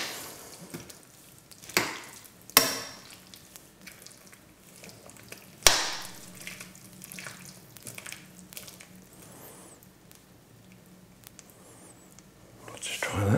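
A spoon stirs a one-pot chicken and vegetable dish, giving soft wet squelches and a few sharp clinks against the pot, with a person talking quietly over it.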